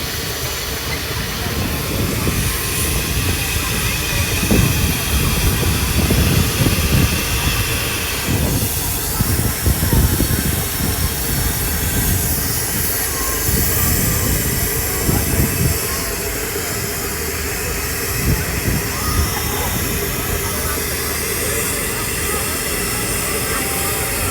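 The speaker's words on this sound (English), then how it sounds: "Big Fowler engine." Big Fowler steam traction engine at a steam rally, hissing steam and a continuous mechanical chuffing rumble, loud and close, steady over the whole stretch with faint voices in the background.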